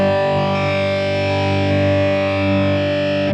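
A single electric guitar chord rings out through an AM4 amp modeler with heavy distortion, sustaining loud and full for over three seconds as a condenser mic is moved around it before it cuts off.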